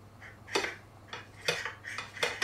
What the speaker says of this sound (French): Je zeste comme ça.